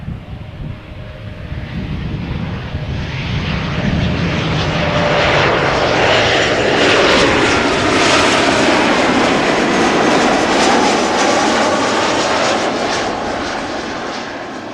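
An Embraer airliner arrives at Amsterdam Schiphol Airport on a summer evening, its engine roar building loud and broad over the whole stretch, with some wind buffeting the microphone.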